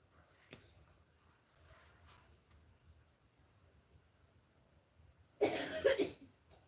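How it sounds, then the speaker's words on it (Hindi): A single close, harsh cough bursts out near the end after quiet with faint insect chirping in the background. "खांसी होती है ना।"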